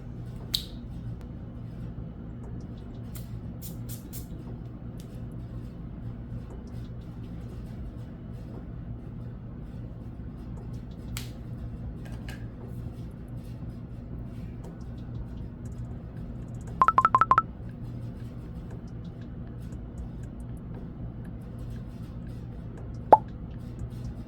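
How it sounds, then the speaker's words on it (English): A bottle of Kayali Fleur Majesty Rose Royale perfume gives a single short, soft spray hiss partway through an otherwise quiet room with faint background hum. "As soon as I sprayed this, it reminded me of"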